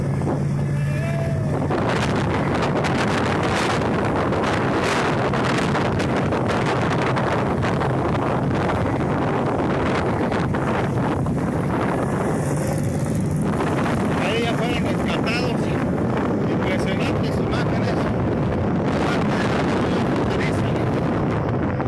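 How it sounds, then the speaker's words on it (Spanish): Around four motorboats work a river rescuing migrants at the Rio Bravo, their engines droning under heavy gusting wind buffeting the microphone, with people talking over it. "Cuatro lanchas rescatando a los migrantes."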